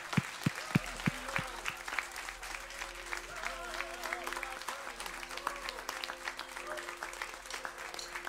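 A church congregation at a Palm Sunday service gives a standing ovation, sustained clapping filling the room over a low hum, with a few booming thumps at first and faint voices and music underneath.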